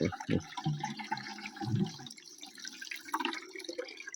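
Water scooped from a pond and poured out to water newly planted seedlings, close splashes and gurgling pours that drip and trickle off in an uneven rhythm; no talking.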